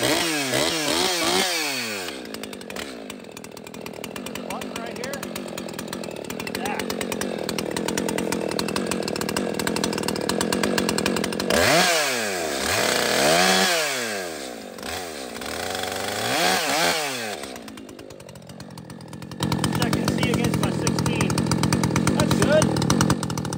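A chainsaw with a hand-filed chain cuts into wood in long loud bursts, the engine revving up and bogging down between cuts, with a steadier roar near the end.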